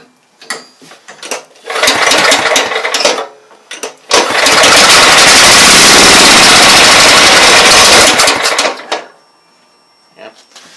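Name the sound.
Bobcat 42-inch lawn mower engine starting and dying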